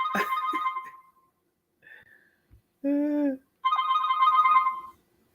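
On a call-in phone line, short electronic tones ring out: a bright chirp, a faint blip, a buzzing burst and a longer ringing tone, with silence between them and no voices.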